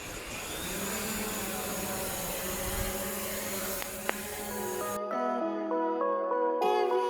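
A camera drone flies over a rainforest gorge in wet weather, giving a steady high whirring buzz close by that shifts in pitch partway through, with a brief tick in the middle.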